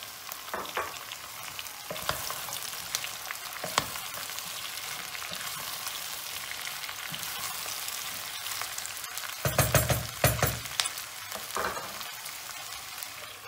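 Peppers tipped into a pan of frying onions crackle and sizzle steadily, with a louder burst of hissing as they land partway through and scattered stirring scrapes.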